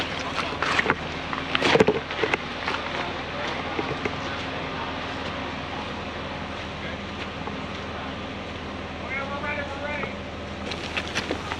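A makeshift John Deere concrete boom pump runs with a steady mechanical drone, with a few sharp knocks near the start and some wind noise.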